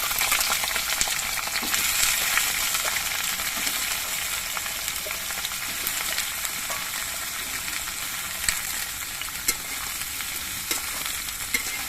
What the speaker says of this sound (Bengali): এবার কচুর লতিগুলো কিছুক্ষণ ভেজে নিতে হবে